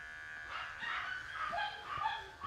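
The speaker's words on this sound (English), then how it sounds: "so you don't have to listen to incessant barking while I'm back there" Dogs bark and yip at a grooming salon, a cluster of muffled, somewhat distant barks and whines under steady room noise, with no talk.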